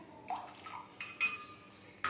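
A pot being set on a kitchen stove for tea, giving a few light metallic clinks and knocks spaced irregularly, quiet and close, with no talk.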